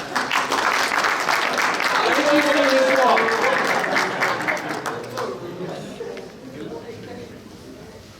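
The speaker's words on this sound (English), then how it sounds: "if you'd like to vote for me, start clapping now" Audience at a fall sports banquet claps to vote in a dance off, broad clapping spreading through the room with cheers, fading over the last seconds while someone talks over it.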